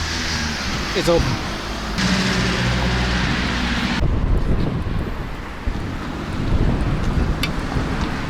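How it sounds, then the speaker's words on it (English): Strong wind buffeting a microphone in loud, rumbling gusts outdoors near a market in Serbia, mixed with passing traffic noise and some talking. "It's very windy"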